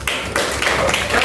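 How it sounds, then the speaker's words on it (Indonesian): Classroom applause for a student named Tiana, a brisk burst of clapping from several children that pauses briefly and resumes, fairly close and steady for about a second. "Tepuk tangan buat Tiana"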